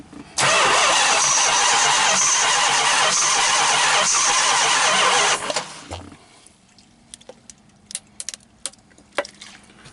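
A 440 big block Mopar V8 cranks and fires after sitting 23 years, roaring loudly and steadily for about five seconds before shutting off, followed by scattered clicks and handling noises.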